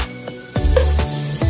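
Garlic sizzles while frying in a pan, a steady close crackle broken by several scraping stirs, loud and alone without talk.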